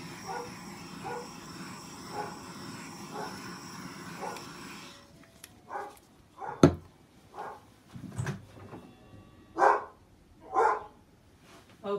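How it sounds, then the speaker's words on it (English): Dog barking at someone at the door, a series of separate barks spaced a second or two apart, some near and loud, starting after a quieter stretch of rhythmic background sound. "And there's my dog."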